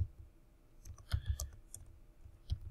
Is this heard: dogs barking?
no